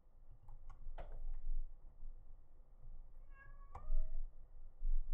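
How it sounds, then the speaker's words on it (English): A cat meows faintly, a short meow near the start and a clearer drawn-out one later, alongside light keyboard typing and clicks in a quiet room. "I have a sad cat."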